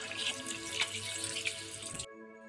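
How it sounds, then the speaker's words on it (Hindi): Tap water runs steadily while fish is rinsed clean in a kitchen sink for a fish fry. The broadband rush carries on alone without talk and stops abruptly near the end. "2 से 3 बार पानी से हम क्लीन कर लेंगे।"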